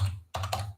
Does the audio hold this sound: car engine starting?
no